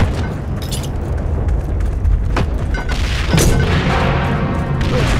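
A Mark II grenade blast in the World War II shooter Heroes & Generals: a loud, deep boom with a rumbling, crashing tail, followed by another burst of explosive noise amid continuous battle din.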